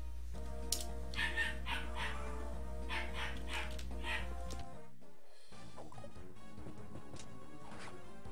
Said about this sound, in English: Again, please excuse the dogs.